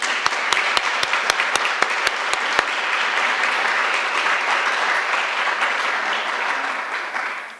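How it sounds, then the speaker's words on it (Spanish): An audience in a legislative hall applauds a visiting guest. Sharp, loud, rhythmic claps from one person near the microphone open it, then merge into broad, sustained applause that tapers off. "Le brindamos un fuerte aplauso."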